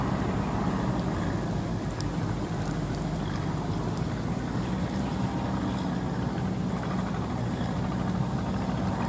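A tiller machine with tall spiked wheels works a field in the rain, its engine giving a steady, rumbling drone that runs unbroken throughout, with no voices.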